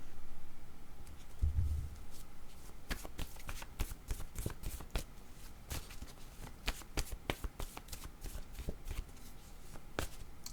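Playing cards shuffled and riffled in a game setting, a run of sharp, crisp bursts and ticks repeating close to the mic, with a brief low thump near the start and no talk.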